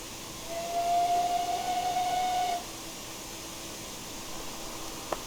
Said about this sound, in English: I don't like any whistle that has a loop to it, truth be told.